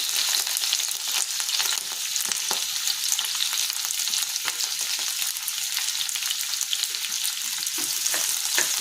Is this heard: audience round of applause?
no